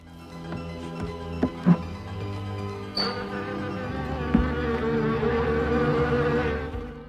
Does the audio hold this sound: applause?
no